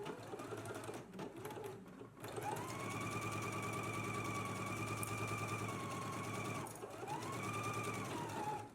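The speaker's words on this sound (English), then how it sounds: "let's go ahead and stitch it in place" A sewing machine runs in a long, steady whirr while stitching the center back seam of a collar at a 5/8 inch seam allowance, with a short burst before and a brief pause near the end.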